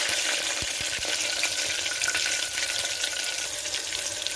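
Green chili and crushed garlic, added after fenugreek and asafoetida, sizzle steadily in hot oil in a clay pot for Kerala-style seer fish curry, a dense continuous crackle with a few low knocks near the start.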